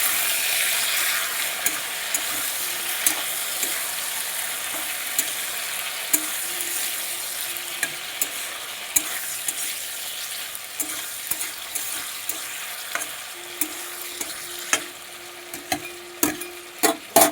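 Flat beans cooking in a pan with sesame, cashew and peanut paste, a steady frying sizzle throughout with sharp spoon scrapes and clicks from stirring, growing busier toward the end.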